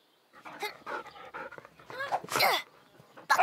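A cartoon dog pants, sniffs and gives short sneezy snorts and whimpers in quick bursts, close and clear, with no talking over it.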